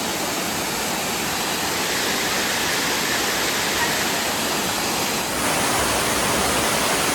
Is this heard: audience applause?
no